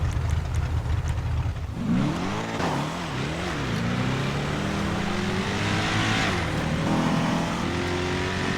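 A Chevrolet Monte Carlo engine in GTA 5 idles with a low rumble, then revs up in rising and falling sweeps before settling into a steady drone as the car pulls away, loud and close with no talk.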